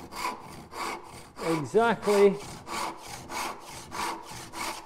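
A hand saw cuts wood held near a woodworking vise, making steady back-and-forth rasping strokes in a regular rhythm, close and moderately loud, with a brief squeaky sound partway through.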